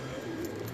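Pigeons coo softly and continuously in a loft or flock of fancy flying pigeons in Lahore, a low murmuring bird sound over a steady background hum.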